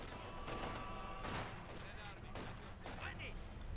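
Conscript riflemen fire at a Company of Heroes 2 infantry squad. The gunfire comes as steady, dense crackling bursts throughout, with louder shots at intervals, under game noise and a commentator talking.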